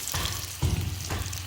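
Potatoes fry in a pan in a dim home kitchen, giving a steady close sizzle with low bubbling and brief louder bursts of spitting oil.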